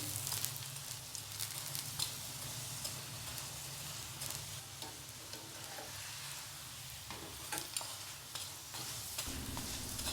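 A green onion paratha fries in desi ghee on a hot tawa, giving a steady, close sizzle that runs unbroken throughout with faint crackles and light stirring scrapes.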